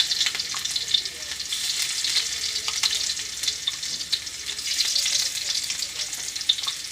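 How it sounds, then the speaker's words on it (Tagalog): Garlic sautéing in a pan gives a steady, close sizzle with scattered crackles and light spatter. It runs continuously for several seconds and no voice is heard. "Gisahon ta na."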